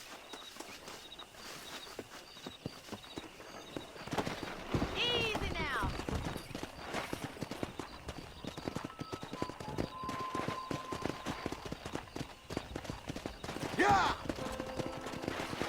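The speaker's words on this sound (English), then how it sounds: "Let's see if we can't wrangle some horses." Horse hooves clip-clopping and footsteps in the Red Dead Redemption video game while wrangling horses, with a brief neigh-like cry and gunfire-like bursts, mixed under frequent character speech and game sounds.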